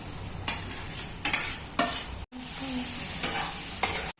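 Chopped ingredients dropped into sizzling masala for chicken pulao, a steady close hiss of frying broken by several scraping stirs and a brief pause before the sizzle resumes.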